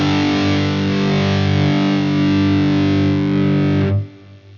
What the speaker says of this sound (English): You get that power amp distortion involved and that grit.